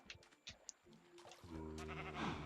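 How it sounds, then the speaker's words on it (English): Several short bleats from a sheep in the video game Minecraft, loud and close, the last one long and wavering over a steady background. "Hello, sheepy sheep."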